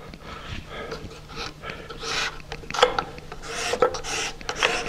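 A hand scraper drags across a piece of epoxy-stabilized wood, a series of close, rasping strokes with uneven rhythm, some sharper scrapes standing out, and breathing audible between passes, no talking.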